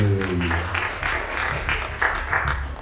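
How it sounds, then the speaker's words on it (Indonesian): Audience at a public lecture applauding for Mbak Nafi, a steady round of clapping with a voice briefly over it. "tepuk tangan buat Mbak Nafi"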